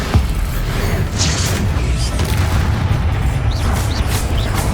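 Loud, dense booming blasts from the Bombarda explosion spell in Hogwarts Legacy fill the scene, layered with crackling debris and a steady low rumble throughout.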